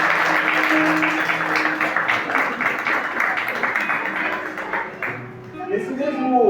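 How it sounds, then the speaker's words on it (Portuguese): A church congregation at a family worship service applauds in a dense, sustained wash of clapping that fades toward the end, with a voice speaking over the noise and music rising as it dies down. "Aplauda o Senhor Jesus"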